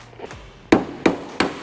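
Three sharp, evenly spaced hammer blows on a chisel, preceded by a couple of lighter taps, close and loud while cutting into a caravan during renovation.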